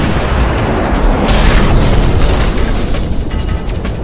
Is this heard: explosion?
yes